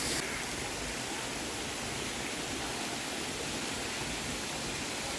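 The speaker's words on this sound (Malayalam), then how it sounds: "അതുകൂടാതെ അങ്ങോട്ടേക്ക് നടക്കേണ്ട വഴിയിലും വെള്ളം വീഴുന്നുണ്ട് കേട്ടോ" Inside a snowy mountain cave, water falls from the rock in a steady, even rush that fills the space, with no voices.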